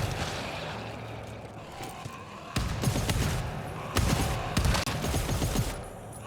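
Gunfire in the co-op horror shooter GTFO: bursts of rapid shots with sharp cracks that grow heavier toward the end, over a steady low background.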